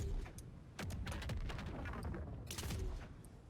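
Grenades launched from an Astrodelphis saddle in the game ARK, heard as a rapid string of loud blasts and gunfire-like bursts packed close together, with no talking over them.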